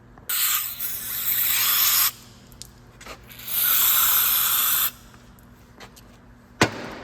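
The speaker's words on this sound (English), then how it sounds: "usually I just use some parts or brake cleaner to just wash this out and get it pretty well cleaned out" Brake cleaner sprayed into the caliper slider bores of a 2010-2014 Subaru Outback 2.4L, two long loud hissing bursts close up with a pause between, then a sharp click.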